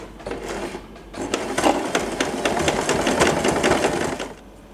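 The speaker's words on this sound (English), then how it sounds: "If you can adjust your needle to the left side, it would be better, so it gets really close to our bow. You can start sewing it." A sewing machine runs steadily, stitching fabric and lace into a big bow, its rapid needle chatter close and fairly loud for several seconds after a brief start, then easing off.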